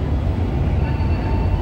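A train at Gambir railway station in Jakarta gives a steady, close, low rumbling drone, heavy in the bass, with no voices over it.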